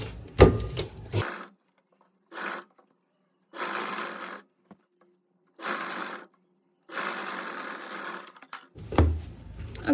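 Stitching a 2-inch-wide strip onto a blouse, a sewing machine runs in six separate bursts of varying length, each separated by near-silence.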